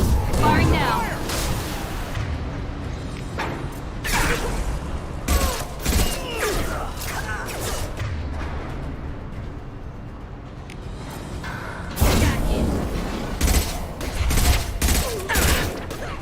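Rapid bursts of weapon fire from Mass Effect 2, loud and dense with booming volleys and mechanical clanks, continuing almost without pause over a busy game soundscape.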